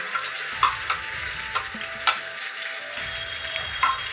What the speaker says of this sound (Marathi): आता व्यवस्थित परतवून घेऊया